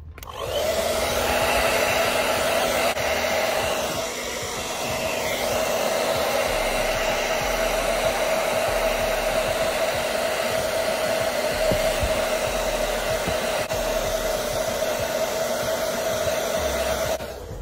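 A hot air gun blows a constant, loud whooshing roar with a steady tone while heating the surface of an inflatable boat to remove a broken bow handle, running unbroken throughout.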